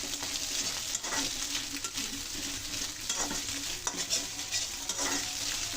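Vegetables stir-fried over high heat for restaurant-style Chinese egg fried rice, a steady sizzle with repeated scraping stirs of the spatula in the pan, moderately faint.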